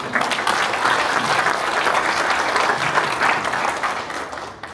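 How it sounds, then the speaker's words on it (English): A fitness and nutrition talk audience gives a dense, steady round of clapping that holds loud and even for several seconds, then tapers slightly at the close, with no voices over it. "One more round of applause for this."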